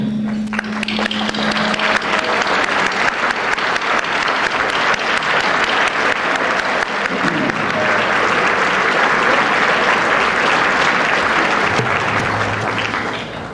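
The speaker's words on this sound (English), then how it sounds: "please stand so we can give you another round of applause for your important efforts" Banquet audience at a space tourism awards dinner applauds standing honorees, a long, loud, steady wash of many hands clapping that fades slightly at the end.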